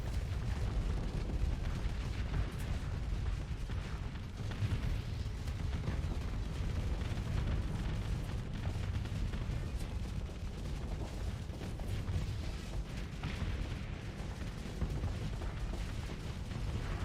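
Ship weapons fire in the Starsector space combat game, a dense continuous barrage of booms and blasts with a heavy low rumble, loud and unbroken throughout, no talking.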